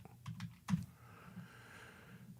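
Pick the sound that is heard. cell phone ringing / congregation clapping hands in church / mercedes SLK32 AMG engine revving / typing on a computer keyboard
typing on a computer keyboard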